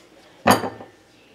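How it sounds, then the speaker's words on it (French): A knife chops a potato into small pieces on a board, giving one sharp clunk with a brief clattering ring, close and fairly loud against a quiet room. "Donc, je coupe les patates en petits morceaux."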